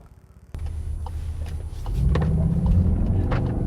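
An Audi S3 engine and exhaust sound out while driving. A low, throaty drone starts abruptly, then swells louder as the car accelerates, with deep rumbling close by throughout.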